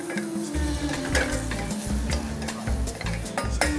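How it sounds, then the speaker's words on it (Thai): Chopped onion fries and sizzles in a pan while it is stirred, with loud continuous hiss and crackle, spatula scrapes and a low hum underneath, and no voices. "เสร็จแล้ว ใส่หอมใหญ่ลงไป"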